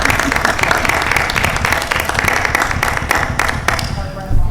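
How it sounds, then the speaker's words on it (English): Audience applause at a school committee meeting, a dense steady wash of many hands clapping throughout, loud and continuous, with some voices mixed in underneath. "We can applaud for John."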